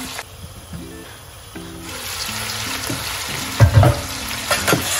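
Rabbit pieces browning in a hot pan, a steady sizzle and crackle with spoon stirring scrapes and a few louder spits toward the end, close and alone.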